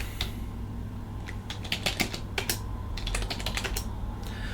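Quick bursts of typing rattle on a computer keyboard, close and crisp, with uneven clusters of keystrokes over a low steady hum.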